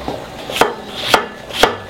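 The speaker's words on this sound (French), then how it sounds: "on tranche comme ça, tranche table, en dés, assez petit" A knife chops an apple into small dice on a cutting board, three sharp, close knocks spaced about half a second apart.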